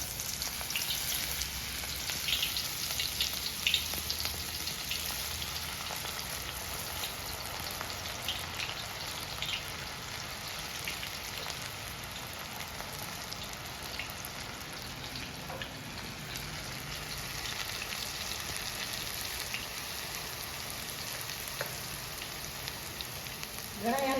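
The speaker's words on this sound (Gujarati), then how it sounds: "તેલ ગરમ થઈ ગયું છે અને આપણે ભજીયા બનાવીશું." Kumbhaniya bhajiya fritters fry in hot oil on a stove, giving a steady, fairly quiet hiss and crackle that continues without pause and without talk.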